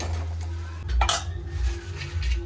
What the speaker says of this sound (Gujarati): આપણે એમાં બટેકા એડ કરી દેવાના છે એને મિક્સ કરી લેવાનું છે બરોબર